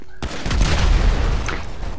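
Fireworks explode in a zombie survival game, a dense rumbling barrage of booms and crackles packed close together across the whole stretch, loud and sustained with a brief sharper burst near the end.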